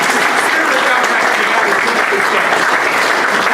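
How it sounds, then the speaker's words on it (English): Dense, steady audience applause at a Govhack event for a participant joining by video conference, loud and continuous for the whole stretch with only a faint murmur of crowd underneath. "Yeah, give him a clap."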